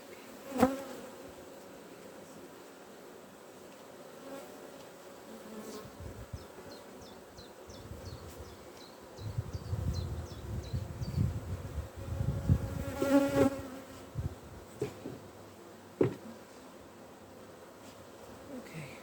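A faint, steady hum of honeybees rises from an opened hive in Ireland in May as the brood box is exposed. Soft rustling and handling knocks sound close by.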